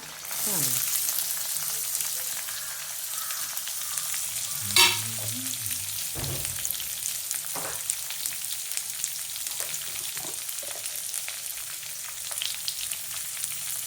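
Cumin seeds, onion and chilli crackle in hot oil for mango rice. A continuous near sizzle runs under scraping stir strokes, with one loud clatter partway through.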